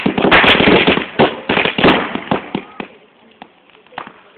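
Double-shot firecrackers go off at a Karthigai festival street celebration in Aloor, a loud, rapid crackling burst of overlapping bangs that thins into scattered pops.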